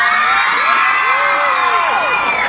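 A concert audience in Cologne shouting and cheering loudly, a dense crowd roar with high whoops sustained across a short burst.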